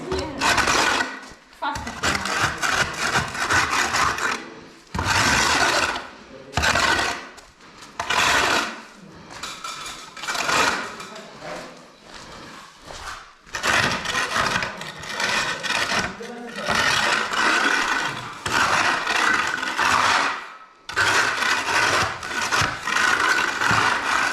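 Rough, continuous scraping with a hand scraper on a plastered garage wall, coming in long strokes broken by short pauses, fairly close, with people talking in between.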